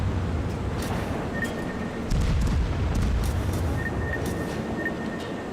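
An enemy aircraft carrier blowing up in a naval battle video game: a continuous deep rumbling roar with a heavier swell midway, thin whistling tones and scattered crackles over it, no voices.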